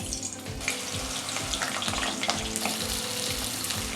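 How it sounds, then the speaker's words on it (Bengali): Potatoes fry in smoking-hot mustard oil in a kadai, giving a dense, steady sizzle with a few soft stirring knocks, close and loud throughout. "এবার আমি আলুগুলো দিয়ে ভেজে নেব।"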